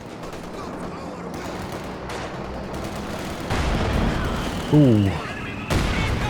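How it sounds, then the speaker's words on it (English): A heavy mortar shot in Company of Heroes 2, with distant battlefield gunfire rumbling beneath and a louder boom arriving midway, while a voice exclaims briefly over the noise. "Oh, big heavy mortar shot."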